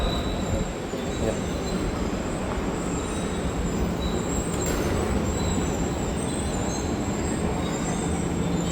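Tegal Bahari business-class train cars rumble steadily on the rails, with continuous wheel noise and a faint high squeal running throughout, heard up close and loud without any voices.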